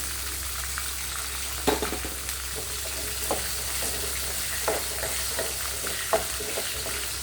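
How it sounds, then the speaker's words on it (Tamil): Onion, green chilli, garlic and ginger fry in hot oil for a green chutney, giving a constant hiss broken by a few sharp stirring clicks and scrapes, close by with no voices. "லைட்டாக பொரிஞ்சோடனே நம்ம வெங்காயம் போட்டுக்கலாம். வெங்காயம், பச்சை மிளகாய், பூண்டு, இஞ்சி."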